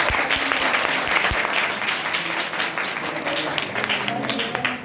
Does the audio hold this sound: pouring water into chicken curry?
no